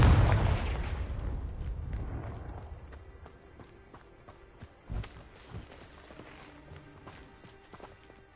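Confringo fire-blast spell explosion in Hogwarts Legacy, one loud booming blast at the start that rolls off into a fading rumble, followed by quieter scattered thuds and footstep-like taps.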